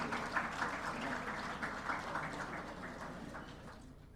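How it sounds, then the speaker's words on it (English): Audience applause at the opening ceremony of a 56th annual general meeting and conference, a steady, moderately distant wash of clapping that fades slightly toward the end. "Let's give her a round of applause."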